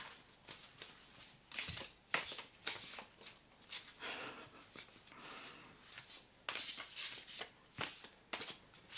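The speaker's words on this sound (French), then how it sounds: "je vous tire une dernière petite carte, comme d'habitude" Tarot cards are shuffled and drawn from a deck, giving soft, close riffling and sliding bursts in an irregular rhythm with quiet gaps between.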